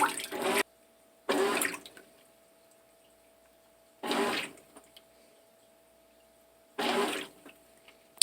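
A GE GTW465ASNWW top-load washing machine filling with water in four separate bursts of rushing flow, each a second or so long with quiet gaps between, a faint steady hum running underneath.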